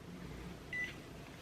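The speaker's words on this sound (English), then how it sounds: "the device vibrated, it beeped" A Nebulyft facial device gives a single short high beep to signal it has finished, faint and close over a quiet room hum.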